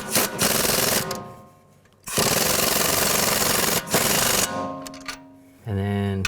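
Sway bar link nut on a 2004-10 BMW X3 being run on with a power tool in long loud buzzing bursts between short gaps, ending in a brief tonal whir, all close up.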